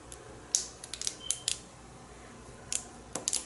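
Scissors snipping through corrugated plastic while cutting corner marks for a soap mold, a handful of faint, crisp clicks in small clusters with quiet gaps between them.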